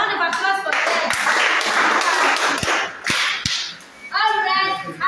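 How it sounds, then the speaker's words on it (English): Audience applause for students at a birthday celebration, a dense burst of clapping hands with some sharp claps standing out, with voices talking before and after the clapping. "another round of applause to all our students who participated today"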